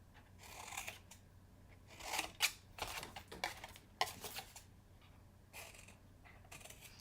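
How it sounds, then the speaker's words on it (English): Scissors snip at the tabs of a paper box in a quiet room, a series of short, crisp cuts in irregular bursts with soft rustling between them. "And then we're going to trim each of these tabs, which I call angle cutting."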